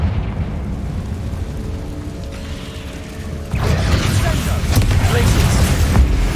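A Confringo blasting curse explodes in Hogwarts Legacy, a sudden loud, rumbling burst that cuts in midway over a quieter mechanical, clanking backdrop and keeps roaring with crackling debris to the end.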